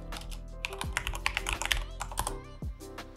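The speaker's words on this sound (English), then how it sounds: "Type this password in again." A password is typed on a computer keyboard in a quick, close burst of clicking keystrokes with uneven rhythm and a few louder key presses, with no talking.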